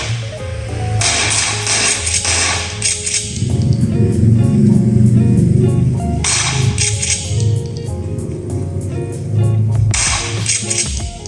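PUBG game gunfire plays from a Huawei MatePad T10 tablet speaker, sharp cracking bursts arriving in clusters over a busy background of game sound and rumble.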